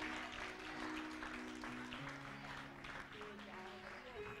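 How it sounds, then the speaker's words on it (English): A church congregation claps together in worship, a dense wash of hand claps sustained throughout, with voices and a held musical tone running underneath. "Come on, clap for Jesus."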